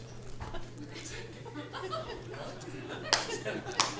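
A lone person claps a few times after a Rubik's Cube magic trick, sparse and fairly faint sharp claps under chuckles and talk.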